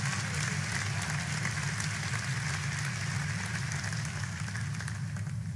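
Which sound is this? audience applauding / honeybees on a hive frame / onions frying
audience applauding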